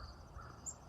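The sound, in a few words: crows cawing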